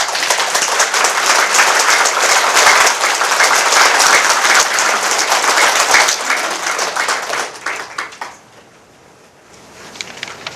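An audience at a book launch gathering claps together in dense, sustained applause for about eight seconds, then it trails off into a few scattered claps before fading to near quiet.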